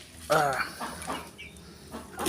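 Chickens in a freshly moved ground-level pen cluck in short bursts, one loud nearby call followed by softer scattered clucks over a low background hum.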